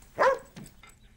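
A dog gives one loud, close bark followed by a softer short yelp in an indoor household scene.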